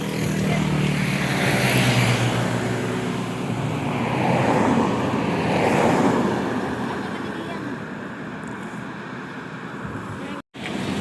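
Highway traffic rushes past in a steady broadband roar that swells and fades as vehicles go by, with wind buffeting the microphone before a brief dropout near the end.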